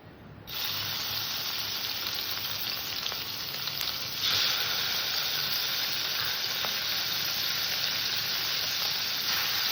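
Shrimp seasoned with salt and turmeric frying in a little hot oil in a wok, a loud, steady sizzle that starts abruptly after a brief quiet moment and continues without interruption.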